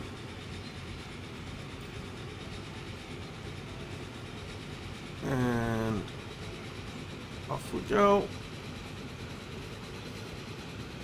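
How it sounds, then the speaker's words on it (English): Trains rolling through a Transport Fever 2 rail network, a steady low rumble with brief horn-like tonal bursts near the middle and end, under a voice speaking briefly. "There should be loads of trains around here."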